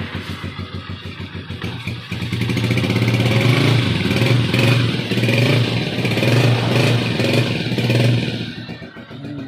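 A Honda TMX125 Alpha motorcycle converted to a TMX155 with a clutch-side gear runs close by, its steady engine note rising into a louder, revving idle midway and holding there with no one talking.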